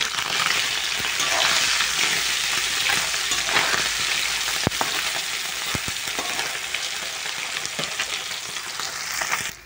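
Pieces of fish crackle and sizzle loudly in hot oil after being turned in a kadai, a dense, unbroken frying hiss close by with scattered pops and a few faint clinks.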